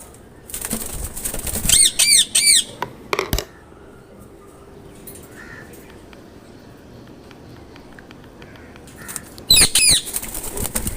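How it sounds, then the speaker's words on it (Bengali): A few short, sharp parrot squawks sound in small bursts early on and again near the end. A faint outdoor background runs between the calls and no voices are heard. "খুব সুন্দরভাবে ডাকতেছে, ডাক খুবই সুন্দর এবং কি অনেক ভালো লাগে টিয়া পাখির ডাক।"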